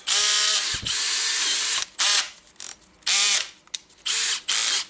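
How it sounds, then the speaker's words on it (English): A reassembled Makita DDF485 cordless drill whirs loudly up close in several bursts, revving to full speed then stopping, with short pauses and clicks between runs. "I will reassemble the drill and test it"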